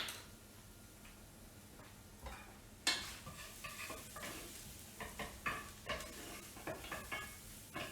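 Onions fry and brown toward caramelization in a pan, giving a quiet, low sizzle broken by repeated scrapes and light taps of a utensil stirring them at an uneven rhythm.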